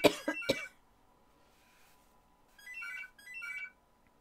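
A house phone rings in a bedroom during a horror game session, two short bursts of electronic trilling tones after a couple of loud coughs, then quiet between.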